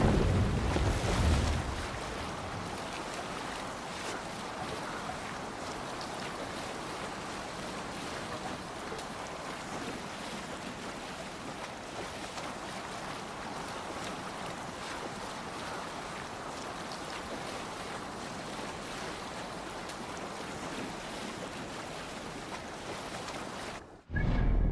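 A Viking longship under sail on open ocean in Assassin's Creed Valhalla, with steady broadband wash of waves and wind rushing continuously and loudly for the whole stretch, cutting off abruptly near the end.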